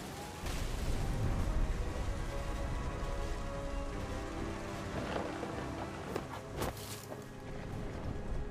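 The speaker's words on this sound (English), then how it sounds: "The thunder sounded much too close and full of angry power" Steady rain with rumbling thunder in the stormy beach scenery of the video game What Remains of Edith Finch, a dense, continuous wash with a few sharper cracks and swells late on.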